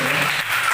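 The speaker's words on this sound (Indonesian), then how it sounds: "Tepuk tangan dulu buat" An audience at a training session gives a short burst of clapping for a question, dense and fairly loud, lasting under a second.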